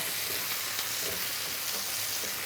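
Butter sizzling in a pan, a steady, even frying hiss throughout with no voices.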